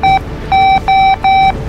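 Warning alarm in the naval combat video game Battlestations: Pacific, four loud electronic beeps in an even rhythm over a low rumbling game background, with no speech.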